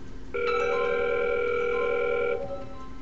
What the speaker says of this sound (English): we notice we have an incoming call